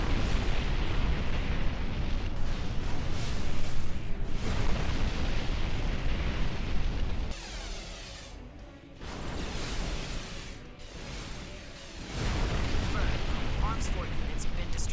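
Arms forts in Armored Core for Answer break apart under melee blade swings, with rumbling explosions and roaring mech thrust in long loud stretches, briefly dropping away before surging again; a narrator talks throughout.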